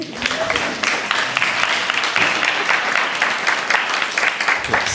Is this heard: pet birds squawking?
no